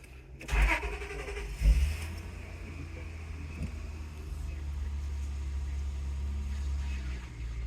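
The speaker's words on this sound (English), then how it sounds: "So we're going to turn the car on." A car engine cranks and catches with a couple of sharp bursts, then settles into a low, steady idle hum, recorded nearby and fairly quiet.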